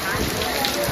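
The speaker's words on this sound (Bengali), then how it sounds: "দেখুন কি জোর বৃষ্টি হচ্ছে" Heavy rain falls on Kolkata during a storm, a loud, unbroken roar heard from under a shelter, steady and close throughout.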